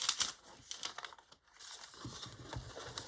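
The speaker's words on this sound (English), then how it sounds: "I hope you like the sound of crinkling paper." Sketchbook paper crinkles and rustles up close in quick, irregular bursts, pausing briefly before more crumpling.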